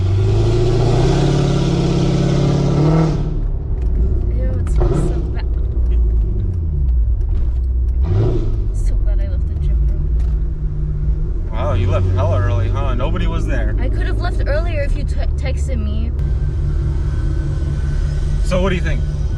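A Mercedes-AMG car with a loud, NASCAR-like exhaust revs and rumbles up close, its engine swelling and dropping through bursts of acceleration while people talk over it inside the car.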